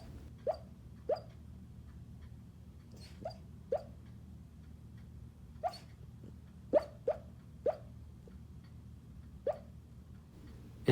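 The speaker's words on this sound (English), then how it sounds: "Examine for the next few moments how this dog talks in her sleep." A sleeping Jack Russell Terrier Chihuahua mix breathes noisily, giving about a dozen faint, brief snuffling squeaks at irregular intervals against a quiet, steady background hum.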